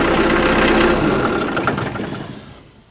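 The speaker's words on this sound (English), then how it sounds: "when it's at a standstill, it's quite noisy from the transmission area" A loud mechanical drone from a Yanmar tractor's transmission at standstill, rattling and whirring steadily before fading away over the last second.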